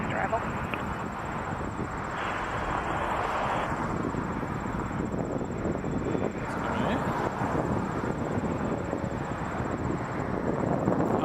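A Lufthansa Airbus A350-900 arriving from Munich comes in to land at Toronto Pearson Airport, its jet roar steady and loud throughout, with radio talk in the background.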